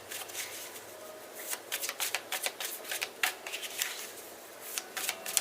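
Tarot cards riffled and shuffled by hand in a quiet room, a run of crisp papery flicks and soft slaps in uneven bursts, close and fairly loud with no voice.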